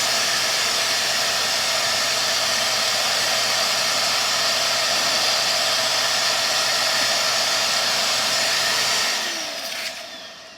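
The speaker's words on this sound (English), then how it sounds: "put the vacuum cleaner on, and I just suck them all up" A vacuum cleaner runs in a garden to suck squash bugs off plants, a loud steady close whooshing roar that holds for about nine seconds and then winds down.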